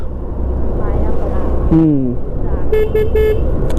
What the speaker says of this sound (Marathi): अशा वेळी हॉर्न वाजवायचा